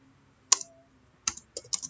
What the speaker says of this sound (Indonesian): Kita di sini bisa mengetik. Misalnya saja saya akan mengetik nama saya Adam.